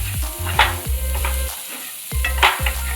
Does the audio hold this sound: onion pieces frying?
yes